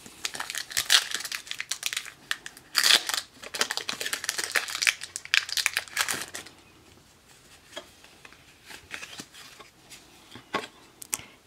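A Pokemon EX Unseen Forces booster pack wrapper being torn open, with sharp, close crinkling and crackling of foil in quick bursts over several seconds before it quiets to faint handling.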